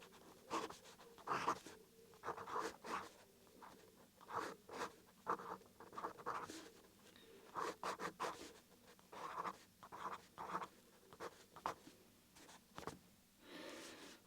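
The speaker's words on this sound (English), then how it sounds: "You're going to hear the nib performing actually on the page with the microphone quite close up to the nib" A fountain pen nib scratches across smooth Ayush paper, recorded very close, in repeated bursts of writing strokes separated by brief pauses, quiet and dry.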